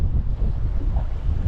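Steady wind roars and buffets the microphone on a fishing boat at sea, with a dull rumble like open water underneath.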